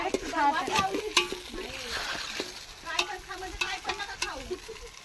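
Onion and tomatoes sizzle in a pan while being stirred, with close scraping strokes over steady frying, and a person talks over it.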